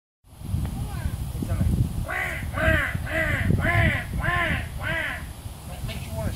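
A bird calls in a run of about five harsh, evenly spaced caws, close and fairly loud over a noisy outdoor background with low rumble; the calls sound crow-like rather than songbird-like.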